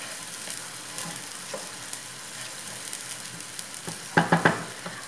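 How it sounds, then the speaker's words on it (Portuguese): Stroganoff ingredients frying together in a pan while being stirred: a steady broad sizzle throughout, with a few sharper utensil scrapes and clatters near the end. "a gente vai fritando todo mundo junto e misturado aqui"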